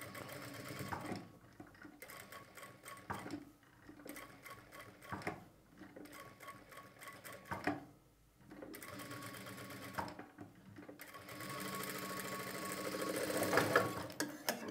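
A sewing machine stitches a line on lining fabric while making piping. Its needle chatters rapidly and steadily, pausing briefly several times, close and clear with no talk.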